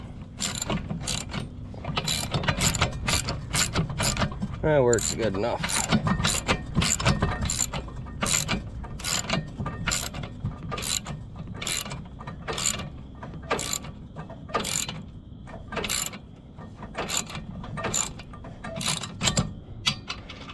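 A ratchet wrench clicks in a rapid, steady series of sharp ticks, close up, turning a stiff self-locking nut on a Ford LGT 165 garden tractor, with a voice briefly speaking partway through.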